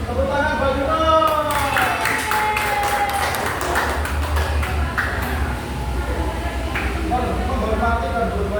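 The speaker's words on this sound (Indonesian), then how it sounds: "Tepuk tangan buat Yunus" Children clap for a boy named Yunus in a classroom, a quick patter of many hands that rises and fades within a few seconds, with voices continuing over the noisy room.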